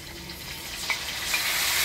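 Potatoes being stirred and fried with ginger, cumin, chilli and onion paste, turmeric and salt make a soft, steady sizzle that swells slightly toward the end, with faint stirring and no talking.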